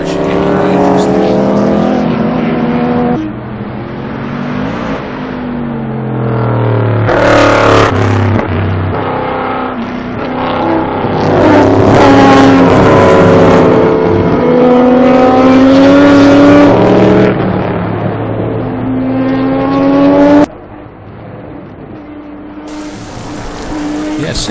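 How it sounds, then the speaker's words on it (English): Daytona prototype race cars roar past on a wet track at a 2010 Grand Am test day. Loud engines rise and fall as they accelerate, shift and pass, with spray and a commentator talking over them. "Daytona prototypes, even on the wet track, seem to like this line ride."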